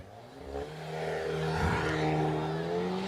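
A race car launches off the line at the Simola hill climb, the engine note climbing sharply from a low idle into a loud, sustained rising roar as it pulls away close by.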